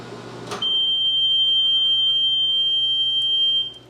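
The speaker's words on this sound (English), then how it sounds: "Microwave is done." A 1978 Amana Radarange Touchmatic II RR-10 microwave oven ends its cooking cycle with one long, steady electronic beep held for about three seconds, loud and clear over the faint low hum of the kitchen.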